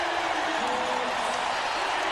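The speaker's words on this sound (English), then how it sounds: "Now the crowd into it." Crowd of 17,072 cheering inside the renovated KeyArena in Seattle during a 1997 NBA playoff game between the Rockets and SuperSonics, a dense, steady roar filling the arena throughout.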